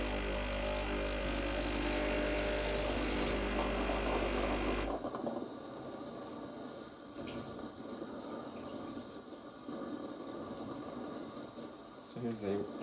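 Breville Barista Express espresso machine steam wand purged to clear milk, a loud hissing blast of steam for about five seconds that cuts off abruptly, followed by quieter kitchen handling sounds.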